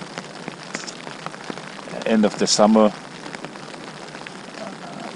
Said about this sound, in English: Maybe I have to do that because it's raining.